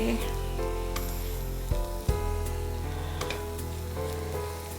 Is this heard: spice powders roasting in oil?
yes